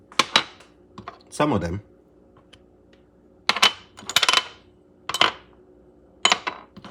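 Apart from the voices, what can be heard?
mixing shrimp with seasoning in a bowl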